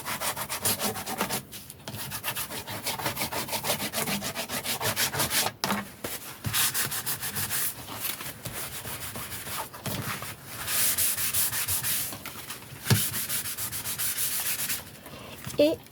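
Rough scratchy sanding on the edges of a paper card, rounding its corners in steady back-and-forth strokes close up, with a few brief pauses and no voices.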